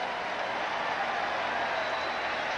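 A college football stadium crowd at the 1987 Miami at Arkansas game roars on a first-down run, a dense, steady wash of cheering and applause sustained throughout.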